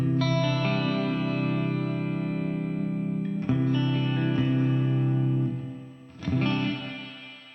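A sustained, processed tone washed in bright, shimmering reverb, thin on bass, with a couple of re-attacks and a brief dip before swelling back.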